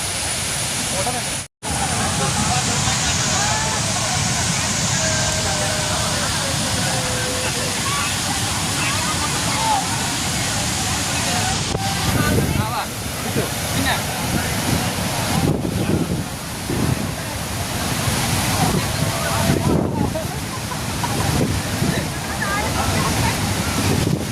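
Athirapilly waterfall roars in a loud, continuous wash of crashing water with gusts of wind buffeting nearby, and there is a brief dropout early on.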